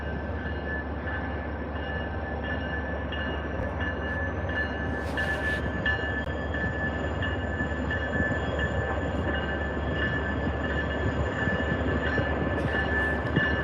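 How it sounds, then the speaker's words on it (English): A train rumbles steadily at South Station rail yard, a continuous low mechanical drone with a faint tonal whine above it and a brief hiss midway, no talking. "This is the train to Stilton, and he just didn't take off his marker lights"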